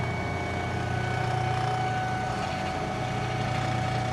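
A DC motor runs steadily under a brake load in a lab, a continuous even hum with a faint tonal whine, loud and unchanging throughout, with no voices.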